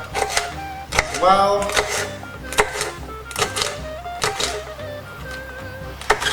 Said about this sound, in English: I'm simply going to cut my peppers up